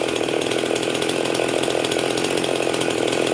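A Husqvarna 51 chainsaw fitted with a full chisel chain, cutting at full throttle in a dense, steady, loud snarl close by, with no break and no voices.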